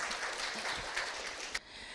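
Applause from a seated audience at a social-service investment networking event in Korea greets a speaker, a dense, mid-distance clatter of claps lasting about a second and a half before fading out.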